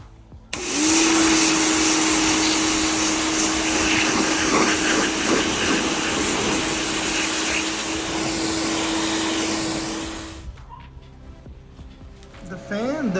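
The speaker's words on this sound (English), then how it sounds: "while I'm in a pressure washing mood, might as well pressure wash this." A pressure washer sprays the undercarriage of a Mazda RX-7 FD with a loud, steady motor roar and hiss. It runs unbroken for about ten seconds, then stops, leaving quieter background sound.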